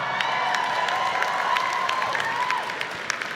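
A large crowd at a university commencement cheers and applauds steadily, a dense wash of clapping and shouts with scattered whistles that holds loud throughout and eases slightly near the end.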